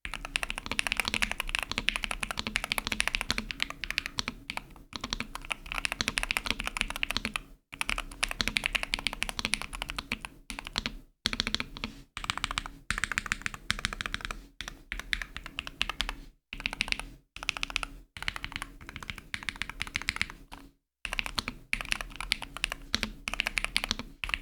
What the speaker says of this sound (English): How does this keyboard sound?